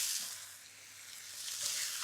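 Beans dropped into a hot pan with onion and ginger sizzle and crackle steadily, a bright hissing fry that swells slightly toward the end.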